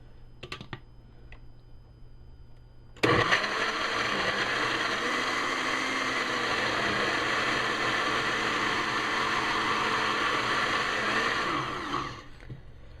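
A blender grinds lime juice for a seasoned habanero pepper sauce. It kicks in abruptly after a few seconds of faint clicks, runs as a loud, steady whir for about nine seconds, then cuts off.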